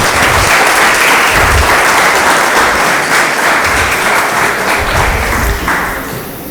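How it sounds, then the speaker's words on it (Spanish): Sustained applause from an audience at a church Bible seminar, a dense steady wash of clapping that fills the whole span and tapers slightly near the end. "Ya, un aplauso."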